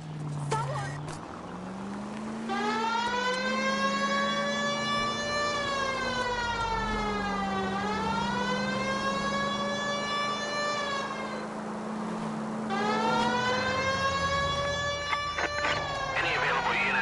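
A police car siren in the video game L.A. Noire wails continuously, its pitch sweeping up and down in long cycles, loud and close, with a few voices heard beneath it.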